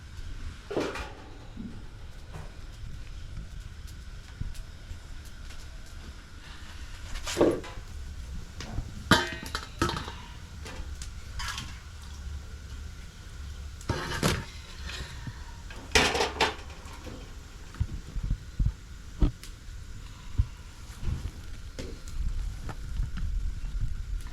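Cooked idli being lifted out of a steamer on a cloth, with scattered metallic clanks of pots, lids and utensils, some sharp and close, over a low background hum, no talking.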